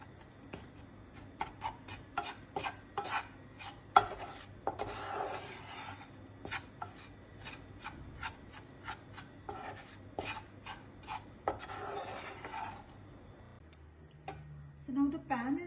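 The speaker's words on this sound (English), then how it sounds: "So for a minute or two we'll keep stirring it till the jaggery gets nicely mixed." Ragi and jaggery being stirred in a hot pan, giving repeated scraping and tapping strokes of a spoon against the pan in an uneven rhythm, close and moderately quiet, with some talking mixed in.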